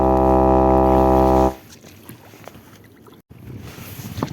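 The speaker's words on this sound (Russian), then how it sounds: "Прощальный гудок." Farewell blast from a river boat's horn, a loud sustained low tone lasting about a second and a half that cuts off abruptly, followed by quiet wind and water noise.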